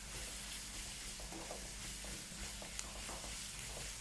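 Onions and small green chillies fry in a pan while being stirred, a steady close sizzle with soft scraping of the spoon running throughout.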